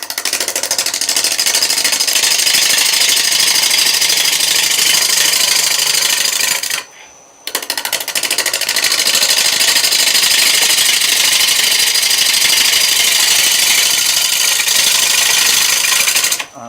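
A Thompson bowl gouge cutting a natural edge mesquite blank spinning on a wood lathe gives a loud continuous rough scraping roar, broken by one short pause before the cut resumes.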